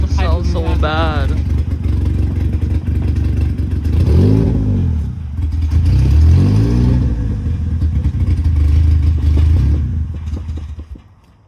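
A Honda engine fitted with a cheap eBay turbo kit revs loudly up and down in two big sweeps, then settles into a rough idle before cutting off, with people talking nearby.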